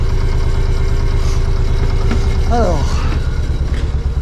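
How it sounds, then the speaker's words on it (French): A boat's engine idles steadily with a low, even throb at close range as the vessel moves around the harbour at Sète, while someone speaks briefly over it. "le moteur tourne, ça chauffe."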